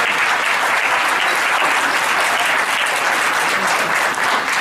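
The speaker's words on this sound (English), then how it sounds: "give them a round of applause as well" Sustained audience applause at a university event on social justice, steady dense clapping filling the whole stretch at an even, loud level with no voices over it.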